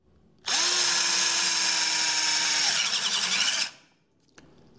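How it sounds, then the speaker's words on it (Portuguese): A Black Tools 12V cordless drill spins at full trigger speed with a 10 mm wood bit, giving a loud, close, steady whine for about three seconds before it cuts off and winds down. "Vou apertar o gatilho na velocidade máxima. Função furadeira."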